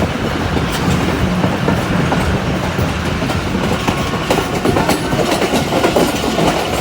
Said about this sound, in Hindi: और यहाँ पे एक और दफ़ा ट्रेन ने क्रॉसिंग की है सामने से, मतलब एक और दफ़ा ट्रेन गुजरी है।